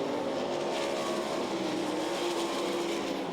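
Sprint cars racing in a heat race at the Knoxville Nationals, a continuous loud engine roar from the pack at a distance with no talking over it.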